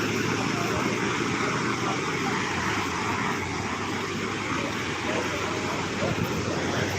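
Steady broadband wash of sea waves at Guhagar beach on the Konkan coast, a continuous roar without distinct breaks, with some wind noise and no talking.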